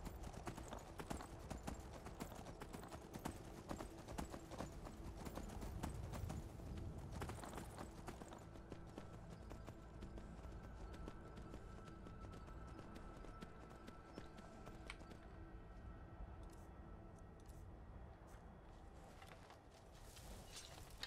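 Steady clip-clop of horse hooves trotting at an even rhythm in Skyrim, close and continuous, with faint game ambience and occasional sounds layered on top.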